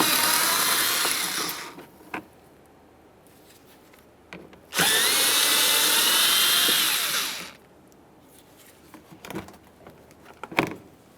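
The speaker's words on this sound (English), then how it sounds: "we'll be using a 7mm to remove these 2 bolts" A power tool fitted with a 7mm socket removes the inner fender liner bolts on a 2013-2020 Ford Fusion 2.0L I4. Two loud, close whirring bursts are separated by quieter clicks and clunks.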